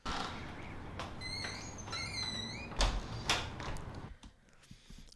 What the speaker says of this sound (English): the squeak is off a little bit. We can hear that in the sound of the door.